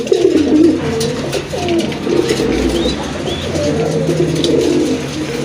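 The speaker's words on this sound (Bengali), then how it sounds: "নটটা কিন্তু অলওয়েজই ডাকে, এই যে দেখেন আমি কিন্তু ডাকানোর কোনো চেষ্টাই করি না, নিজে থেকে ডাকতেছে" A male Gola pigeon coos steadily and loudly close by, its low rolling calls repeating without pause over faint background noise.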